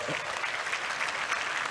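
A crowd applauds in a steady, dense wash of clapping that lasts throughout, fairly loud and unbroken by speech.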